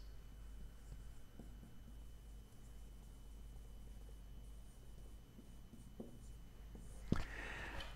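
Pen strokes scratch faintly on paper while notes are jotted down, quiet intermittent scribbles over a low steady hum, ending in a sharper rustle or clatter.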